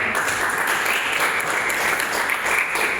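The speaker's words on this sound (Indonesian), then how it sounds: "tepuk tangan saudara" A church congregation breaks into steady, dense applause at the pastor's urging, a continuous wash of clapping with no pauses.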